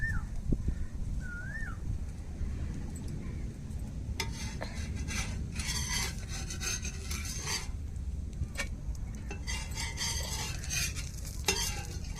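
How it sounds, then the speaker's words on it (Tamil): Dosa batter poured onto a new dosa griddle, with steady broadband sizzling and scraping throughout, bursts of louder stirring or spatula rasps in the middle and toward the end, and faint background room noise. "அந்த புது தோசைக்கல்லில் தான் மாவை ஊற்றி எடுக்கிறோம்"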